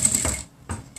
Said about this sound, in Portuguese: Só não costura muito rápido para não escapar de prender o velcro